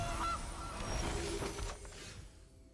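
A honking goose call plays for the Gilded Goose card in MTG Arena, a short, fairly quiet honk over a dense layer of game sound.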